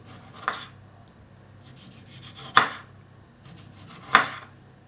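Knife slicing tomatoes thin for a caprese salad on a board, three distinct cutting strokes a couple of seconds apart with soft rubbing between, quiet and close with no talking.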